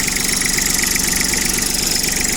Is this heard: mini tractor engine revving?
yes